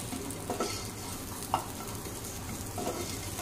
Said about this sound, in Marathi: 1 कांदा घेतलेला आहे, तो सुद्धा असा चांगला ब्राऊन करून घ्यायचा आहे